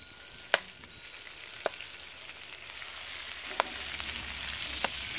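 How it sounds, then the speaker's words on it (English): Broccoli greens from the garden sizzle and fry steadily in a pot over an open outdoor flame, with a few sharp clinks of stirring scattered through the quiet, continuous crackle. "Alright, I'm going to go ahead and add the greens now. So I'm going to kind of add them in slow and stir them in"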